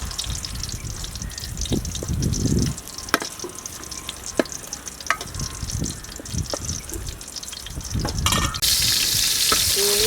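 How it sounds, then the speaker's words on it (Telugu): Stuffed eggplants frying lightly in oil for a village-style gutti vankaya kurma give a steady close sizzle, broken by scattered clinks and scraping stirs and a louder hiss near the end. "లైట్గా ఆయిల్లో ఫ్రై చేసుకోవాలి."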